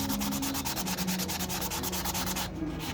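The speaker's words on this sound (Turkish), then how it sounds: "Şu an yaptığım zımpara" Steady rhythmic rasping of 800-grit sandpaper rubbed back and forth by hand on a reed instrument, close up, with even strokes throughout and no voices.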